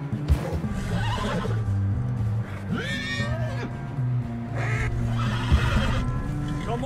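A horse in Red Dead Redemption 2 lets out several loud, close whinnies with a few hoof clops, over a low game music bed and brief muffled voices.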